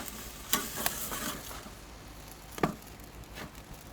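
A sugary stout gastrique cooks in a pan over the grill's hot spot, giving a soft, steady sizzle broken by a few sharp clinks of a utensil against the pan and some stirring noise.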